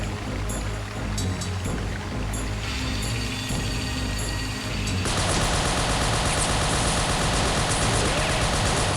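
Continuous heavy gunfire in a World War II battle from Soldiers: Heroes of World War II, a dense unbroken clatter of shots that grows louder and thicker partway through, with no voices.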